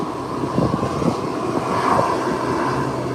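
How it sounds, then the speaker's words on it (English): A Cessna 402 twin-engine airplane taxis out, a steady droning engine rumble with wind noise over it, fairly loud and close, swelling slightly midway, no voices. "There goes the Cessna moving in the corner, heading out"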